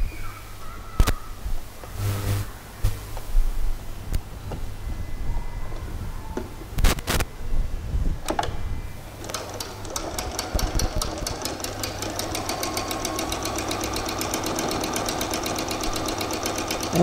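Sewing machine stitching along the folded end of fabric for a pair of shorts, a steady rapid mechanical rattle running continuously in the second half after scattered handling clunks and bumps.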